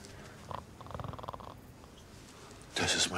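A person sleeps at a table at a wedding gathering and snores in short rasping bursts, fairly faint, followed by a louder noisy burst near the end.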